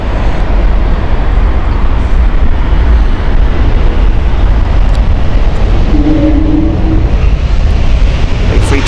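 A JetBlue Airbus A321neo at Heathrow fills the air with a loud, continuous broadband jet roar that holds steady throughout, dense and close with no pauses.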